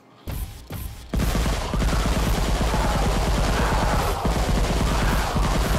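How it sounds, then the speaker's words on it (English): Gunfire in the AKOV Space Bears video game, shooting down flying enemies: a couple of single shots, then sustained rapid automatic fire with dense bursts and explosions, loud and continuous to the end, with no talking. "So it's kind of like a stressy moment where you want to shoot everything out of the air."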